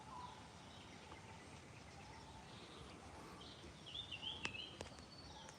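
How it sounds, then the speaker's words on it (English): Birds chirp and call intermittently in a park, fairly faint over a steady outdoor hiss, with a few brighter tweets toward the end and no talking. "You hear all the birds singing in the background."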